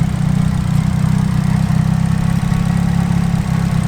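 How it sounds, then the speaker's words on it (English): A Nissan 180SX idles low and steady up close, its engine giving a continuous deep throb with an even pulsing rhythm and no revving across the few seconds. "Idle's sitting quite low."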